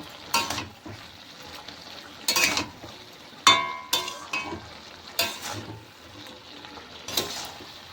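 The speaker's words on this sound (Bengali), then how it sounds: "ভালো করে একটু মিশিয়ে নিতে হবে" Rice flour being stirred into bottle gourd greens in a pan, with a spoon scraping and clinking in a handful of distinct strokes over a soft, steady sizzle, close up, with no talking.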